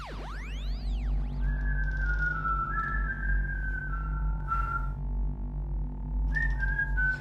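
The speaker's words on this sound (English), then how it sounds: "It's called whistling." Someone whistles a wavering, sliding tune over a steady low hum, with a few brief pauses between phrases.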